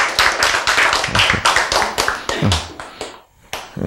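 A congregation at a church worship service claps in a fast, steady rhythm, close and loud, with sharp regular strikes that briefly falter near the end before resuming.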